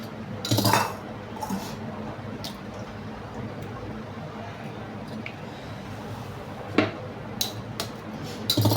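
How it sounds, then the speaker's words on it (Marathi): Eggs are cracked in a home kitchen, heard as a few sharp, brief taps and clinks spread out over a quiet background, with a louder knock near the start and several more near the end. "अंडी फोडून घेते मी."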